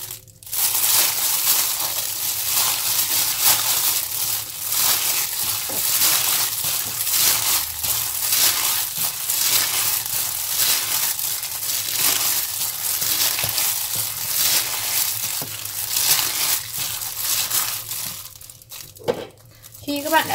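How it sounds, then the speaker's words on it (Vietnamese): Seafood spring roll filling being mixed by hand with MSG and salt in a bowl, a continuous close, loud crinkly squishing and crunching texture with steady rhythm throughout. "Sau đó trộn đều nguyên liệu."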